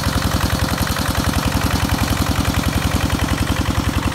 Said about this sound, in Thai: เกษตรกรไทยใช้เครื่องสูบน้ำนี่